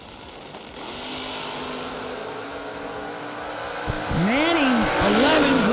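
Drag race cars launch at a season kick-off event, one of them an alcohol-injected Opel on nitrous; a loud, rising engine whine builds, then sweeping, swooping revs from nearby engines erupt near the end, with an announcer talking over it.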